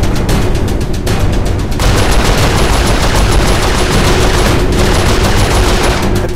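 Turret gunfire in the video game Saints Row, a loud and continuous stream of rapid shots with booming impacts that fill the entire stretch without any pause.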